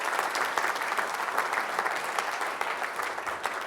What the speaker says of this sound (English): Yes, please, a big applause.